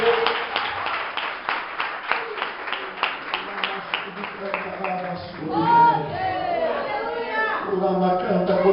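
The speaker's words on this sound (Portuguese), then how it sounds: "Vamos aplaudir Jesus bem forte." A church congregation at an independent Baptist service claps loudly and steadily for about five seconds before the applause gives way to a voice speaking and singing over the fading crowd.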